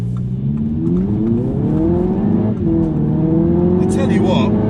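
A 2019 Audi TT with the 2.0 TFSI engine accelerating through twisty corners, its engine note rising in pitch in repeated pulls, loud and close from inside the car.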